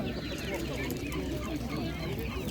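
Turkeys and other poultry gobble and cluck continuously at a village market, a dense, close flock noise mixed with nearby human chatter.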